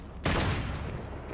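Gunfire in the video game Devil May Cry 5 on PC erupts as a sudden loud burst after a brief quiet moment, then trails into a sustained noisy rumble.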